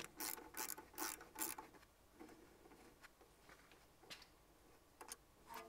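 Ratchet loosening an 8 mm bolt that holds the ABS cable on a Volvo V90 Cross Country, giving quick quiet clicking bursts early on and then faint scattered mechanical ticks.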